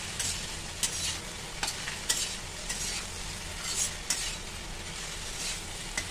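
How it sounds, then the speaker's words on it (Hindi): Spiced bitter gourd and okra masala stirred in a pan, rhythmic spoon scrapes against the metal over a low sizzle, repeated every second or so, close and steady, no talk. "अब इसको चलाएंगे।"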